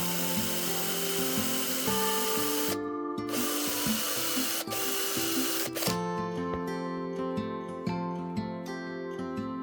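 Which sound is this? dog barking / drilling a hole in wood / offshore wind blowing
drilling a hole in wood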